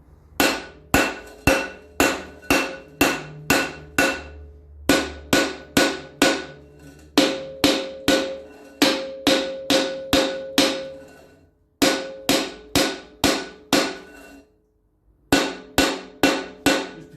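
Hammer striking the rear wheel hub of a Land Rover Series 3 during a wheel bearing change, loud sharp metallic blows in quick rhythmic bursts of several hits with brief pauses between, close by.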